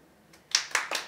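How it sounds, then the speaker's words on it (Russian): A few sharp hand claps from an audience at a poetry reading, four separate bursts in just over a second, fairly close and not yet a full ovation. "Аплодисменты Глебовичу"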